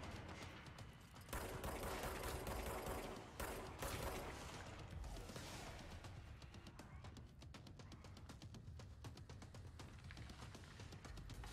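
Rapid bursts of automatic gunfire in the video game Control, dense crackling volleys that are loudest early on, then continue as fast, steady shooting throughout.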